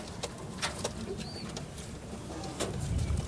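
Several pigeons kept in a loft in Uttar Pradesh coo in low, rolling calls with a few sharp clicks and rustles, moderately close over a constant background noise.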